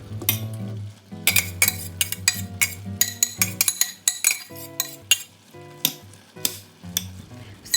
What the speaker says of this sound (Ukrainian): добре перемішую, щоб шпинат подружився з макаронами, і лишаю на деякий час протушкуватися